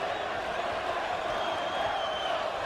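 Arena crowd at a Tomasz Adamek boxing bout keeps up a steady, loud chant of Poland, a continuous wash of massed voices without pause.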